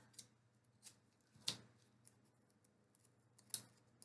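Scissors snip through a sticky dot for a paper flowers and lights craft, a few sharp, separate cuts spaced apart over a quiet background.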